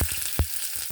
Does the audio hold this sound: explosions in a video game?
no